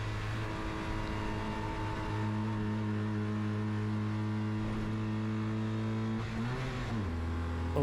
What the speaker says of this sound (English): a little bit of a misshift there as we head down the back straight again